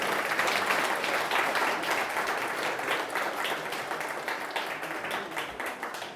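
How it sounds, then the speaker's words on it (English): Sustained applause fills an award ceremony hall honoring a reggae dancehall producer, a dense steady wash of many hands clapping close and loud for about six seconds, easing slightly toward the end, with no talk over it. "Round of applause for Mr. Do, everybody."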